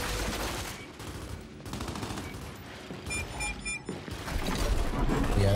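Sniper fire and other gunfire in the shooter game Gears 5 during a ranked match, with sharp bursts and continuous action noise under a game soundtrack.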